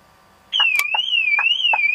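The panic alarm of a 2013 Scania R440 truck cuts in abruptly from near-silence, a loud, close warbling electronic tone with rhythmic pulsing bursts that keeps sounding to the end.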